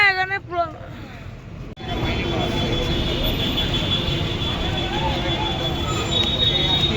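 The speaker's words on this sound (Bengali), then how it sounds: "ওইটা হচ্ছে মেট্রো, এইটা হচ্ছে মেট্রো" A Kolkata Metro train runs through the tunnel beneath the Ganges, its steady, loud rumble and rail noise filling the clip after a brief voice at the start.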